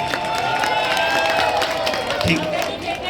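Audience applause at a Hindu Vivah Sanskar wedding ceremony in Alirajpur, a steady wash of many hands clapping with crowd murmur and voices mixed in throughout.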